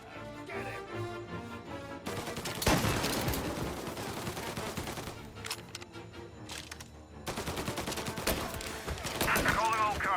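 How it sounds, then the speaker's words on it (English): Gunfire in the video game Mafia Definitive Edition, loud bursts of rapid shots and crashing impacts in several waves, with brief gaps between volleys. "Reports of gunshots rolling in."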